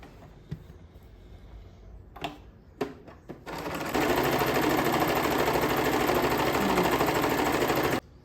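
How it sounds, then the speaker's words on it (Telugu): A sewing machine runs a double stitch on a new nightie. A few clicks and short bursts come first, then one loud steady whirring run for about four seconds before it stops. "నేను ఇప్పుడు డబల్ స్టిచ్ వేసేస్తున్నాను"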